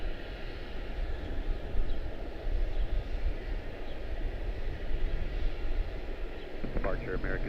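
A Lufthansa airliner at Charlotte-Douglas International airport, a steady, loud jet roar rumbling on throughout, with a brief burst of radio chatter near the end.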